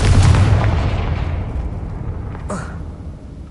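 Confringo spell blast in Hogwarts Legacy: a loud booming explosion that rolls off into a long rumbling decay, with a second smaller crack partway through.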